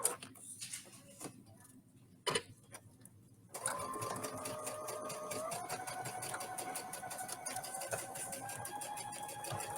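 Sewing machine stitching a quarter-inch seam along a fabric edge for a fat quarter bow basket, a few faint ticks first, then a steady fast motor whir with rhythmic needle clatter running continuously.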